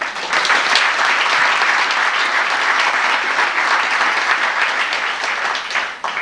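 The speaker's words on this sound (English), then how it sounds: "they deserve a big round of applause for this" A crowd at a senior sports banquet applauds loudly and continuously for several seconds, the clapping tapering slightly at the end.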